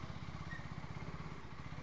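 A 2025 KTM Duke 390 Gen3 motorcycle engine hums in a faint, steady low drone while being ridden, with an even rumble and no voices.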